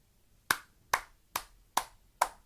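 Five crisp hand claps at an even, unhurried pace, close and alone against near silence.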